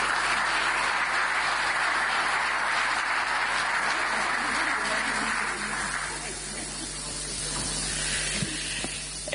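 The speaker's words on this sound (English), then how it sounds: "Give her a warm round of applause." Audience applause at an EU-African Union business forum, a steady broadband wash of many hands clapping that thins slightly partway through before swelling again.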